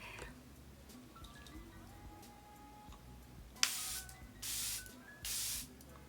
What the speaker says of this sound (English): So I'm gonna go ahead and spray this on today.